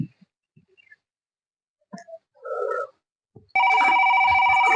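A telephone bursts into loud, continuous electronic ringing after a few seconds of near silence broken only by soft clicks and a brief rustle.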